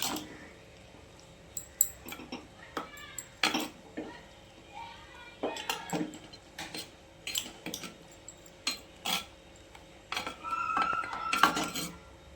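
Lentils stirred in a cooking pot, with scattered metallic clinks and scrapes of a spoon against the pot coming in uneven bursts over a quiet background.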